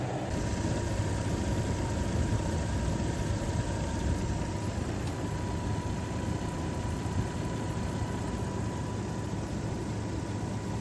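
A 2001 Toyota 4Runner engine idles steadily while warming up, a constant low, even hum with a faint whine on top, heard alone with no talking.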